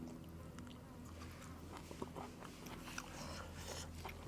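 Steamed frog legs with vegetables being crunched and chewed up close, a steady run of soft bites and crisp crackles over a low background hum, with no talking.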